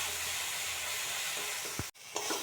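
Onion, ginger and mustard paste frying in a pan, a soft steady hiss and sizzle, briefly interrupted near the end, with no voices.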